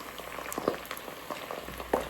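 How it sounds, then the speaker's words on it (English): Keto tortilla chips frying in hot oil, a steady soft bubbling sizzle with occasional sharper pops and crackles, fairly close and with no talking. "The bubbles are the moisture cooking out."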